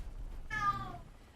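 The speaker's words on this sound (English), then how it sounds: "Really, cat? Can you hear this cat?" A cat gives one clear, drawn-out meow up close, rising and then falling, over a low steady background hum.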